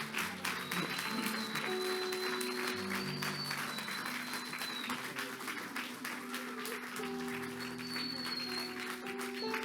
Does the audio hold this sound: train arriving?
no